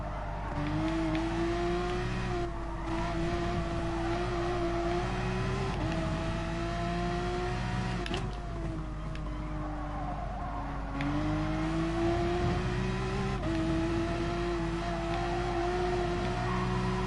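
GR3 race car engine in Gran Turismo Sport at Spa, a loud, continuous high-revving drone rising and falling through gear shifts, with another Mercedes close by.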